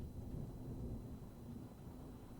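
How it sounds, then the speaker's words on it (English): Steady low rumble of rain with a thunderstorm rolling underneath, continuous and fairly even throughout, no talking. "There's the rain. Yeah,"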